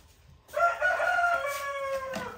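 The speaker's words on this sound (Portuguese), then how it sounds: "E o galo cantando, hein?" A rooster crows once in a drawn-out cock-a-doodle-doo, fairly close and clear over faint farmyard background noise.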